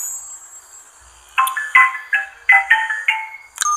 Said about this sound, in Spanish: también te suena el celular para que estés todo el tiempo en contacto con misiones diferentes